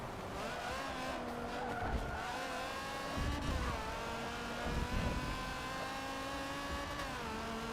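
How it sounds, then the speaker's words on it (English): Race cars in Forza 7 roar together with a sustained engine drone, while tires squeal and skid briefly as a car spins out, all at a steady, fairly loud level. "Oh dear, someone spun."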